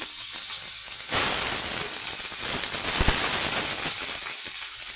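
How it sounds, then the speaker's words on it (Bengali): Chopped onion dropped into hot oil in a wok sizzles loudly from about one second on, a steady close-up crackling hiss with a few sharp pops, holding to the end without talk. "তেল গরম হয়ে পেঁয়াজটা দিয়ে দেবো।"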